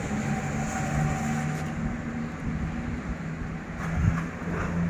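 An old Isuzu truck's diesel engine idles steadily with a low, rumbling drone, continuous and fairly close, with no talking over it.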